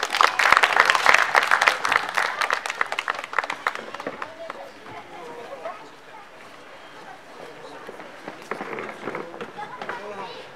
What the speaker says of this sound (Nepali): हामी ताली बजाएर गुरुबालाई स्वागत गर्दछ।